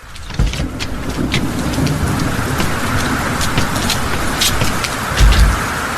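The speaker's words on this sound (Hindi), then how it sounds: "तेज बारिश और 5 किलोमीटर का वॉक" Steady, heavy rain pours continuously, a dense hiss of drops on surfaces with a few louder low thumps near the end.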